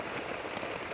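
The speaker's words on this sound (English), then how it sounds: "you don't see rain like this in the UK" Heavy monsoon rain pours down in a Malaysian jungle, a dense, steady roar of drops beating on surfaces, loud and close with no break and no voices.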